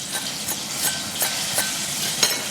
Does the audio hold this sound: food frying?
yes